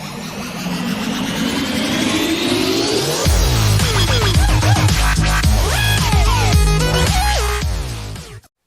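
A Pontiac Torrent engine fitted with a swapped exhaust revs up hard, then drops into a series of loud, rising and falling throttle blips, close and alone with no talking.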